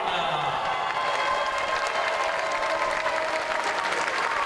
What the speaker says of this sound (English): Big applause for Frances Brown.